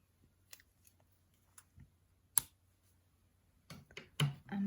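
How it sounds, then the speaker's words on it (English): Scissors snip through a crochet yarn tail on a crocheted teacup, a few faint clicks followed by one sharp close cut and more handling noise at the end. "we're going to cut a tail"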